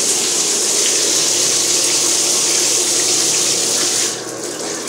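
Water pours steadily from a Moen shower faucet that will not turn off, a loud, continuous hiss of flow that thins slightly near the end.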